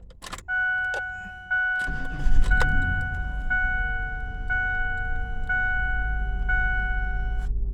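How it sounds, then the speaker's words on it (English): A 1999 Ford Explorer, just fitted with a new alternator, gives a short starter crank and then its engine catches into a steady idle rumble, while regular warning chimes ding inside the cabin. "Alright, let's fire it up."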